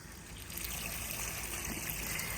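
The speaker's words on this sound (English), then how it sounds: "Under the vehicle behind your back wheel is your freshwater drain off point" Fresh water drains steadily from the drain-off point under an Autotrail Imala 732 motorhome, behind the back wheel, a continuous near trickle and splash with no talking.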